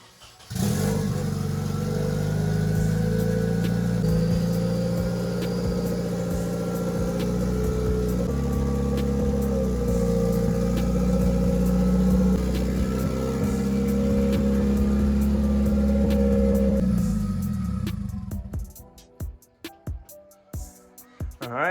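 A Nissan Silvia fitted with a KA24DET engine pulls out and drives, its loud, steady engine drone holding close for about seventeen seconds before cutting off, leaving scattered knocks and rustles.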